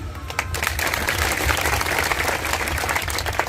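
Loud, sustained applause from a large crowd, dense clapping filling the whole stretch without pause.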